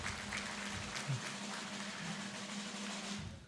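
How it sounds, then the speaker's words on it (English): An audience at an annual lecture and induction ceremony applauds the MC, a fairly faint, steady patter of clapping in a large hall with a low hum beneath, ending abruptly. "Please clap for me."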